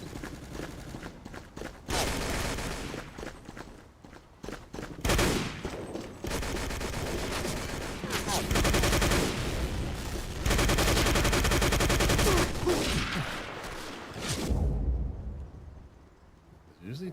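Video game gunfire crackles in long sustained bursts of rapid automatic shots, loud and close, with brief pauses between volleys and no one talking over it.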